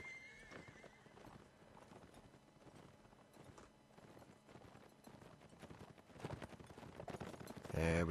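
Cavalry horses in a Mount & Blade Napoleonic Wars line battle, with hooves clip-clopping and horses neighing, faint and distant under a busy battlefield din. Voices are heard, and the sound grows louder toward the end.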